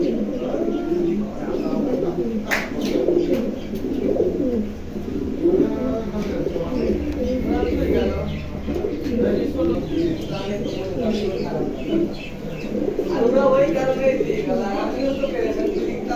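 King pigeons coo repeatedly in a hot pen, soft throaty rolling calls that overlap continuously, with a few brief chirps and a faint sharp click.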